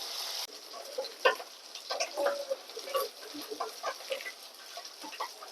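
Fresh bata fish frying in hot oil in a home kitchen, a steady close sizzle with scattered pops and crackles, heard alone with no talk.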